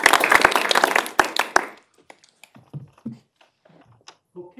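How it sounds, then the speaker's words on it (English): A short burst of audience clapping welcomes a guest speaker at a research seminar on northern security and permafrost thaw. Dense, loud applause lasts under two seconds, then fades to a few scattered faint sounds. "Give Gustaf a good clap."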